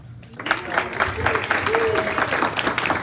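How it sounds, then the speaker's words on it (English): Audience applause at a Montgomery County, Maryland county executive candidate forum in the Wootton High School hall, dense steady clapping from a crowd with a voice faintly under it. "Let's do a big round of applause."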